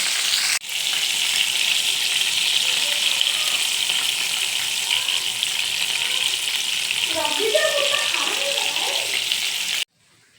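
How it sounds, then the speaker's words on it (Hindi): KFC-style coated chicken strips frying in hot oil, a steady loud sizzle that runs unbroken for nearly ten seconds before cutting off, with faint bubbling and clinks partway through. "सिर्फ फ्राई करना है।"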